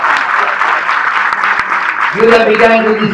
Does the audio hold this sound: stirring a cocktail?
no